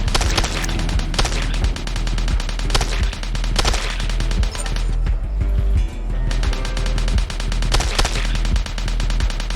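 Rapid gunfire from a shooter-style video game plays as dense, loud bursts of shots, with brief pauses between volleys and continuous game noise underneath.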